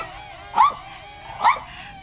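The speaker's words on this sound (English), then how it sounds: "Any second now, that dog's probably going to catch the drone." A dog barks at a low-flying GTeng T908W Wi-Fi FPV camera drone, giving two sharp, moderately loud barks about a second apart against a quiet background with no talking.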